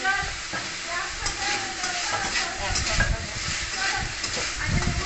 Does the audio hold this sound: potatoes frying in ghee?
yes